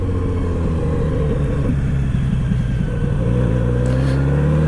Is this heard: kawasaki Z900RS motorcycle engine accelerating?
yes